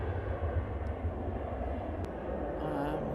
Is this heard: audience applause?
no